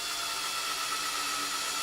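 A power drill pilots screw holes with a 2.5mm bit through the inside of a door, marked from a template for fitting a sign; a steady high-pitched whirring runs continuously at moderate level.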